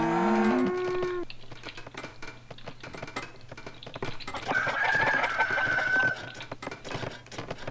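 Cows moo in the strategy game Tzar, a loud drawn-out low bellow up front followed by another mooing call later, mixed with farmyard clucks and crowing in the game soundscape, without speech.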